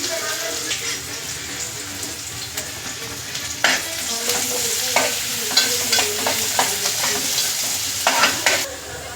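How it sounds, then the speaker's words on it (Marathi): Chopped onion fries in hot oil for a chicken keema egg curry, a loud continuous sizzle with scraping stirs of a spoon against the pan, close up, with faint talk. "तेल गरम झालं की आपण कांदा टाकूया."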